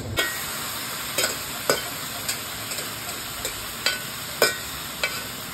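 Marinated desi chicken tossed into fried onions in a pan, giving a steady bright sizzle broken by about a dozen irregular clinks and scrapes of a stirring spoon, close and with no voices.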